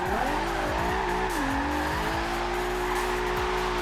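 A Nissan GT-R drift build sliding through a corner in Forza Horizon 2, steady engine drone with a continuous tire squeal and shifting pitch as the car skids, loud and close.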